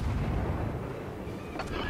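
A World of Warships cruiser, the USS Erie, fires a salvo from its naval guns, a dense, rumbling artillery roar that stays loud throughout with a faint crackle near the end.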